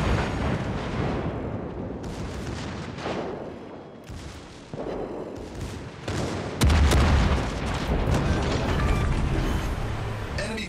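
Booming explosions and rumbling blasts in a naval video game as an enemy cruiser is destroyed, loud layered bursts over several seconds with a heavy, dense roar building toward the end.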